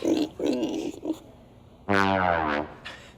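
A voice makes a few grunting sounds, then a drawn-out nasal squeal imitating a pig's oink, close and fairly loud.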